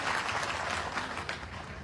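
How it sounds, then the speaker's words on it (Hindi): An audience of journalists at a press event for a former legislator gives brief, dense applause, a continuous rattling clatter of many hands at moderate level, unbroken and without speech. "इन सभी का पत्रकार साथियों का जोरदार तालियां बजा करके स्वागत करिए।"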